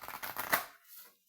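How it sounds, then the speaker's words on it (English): Oracle cards from a deck being shuffled by hand, a dense papery riffle and flutter for about a second before quieting, with a brief final snap of cards at the end. "I am going to go ahead and do a more thorough shuffle"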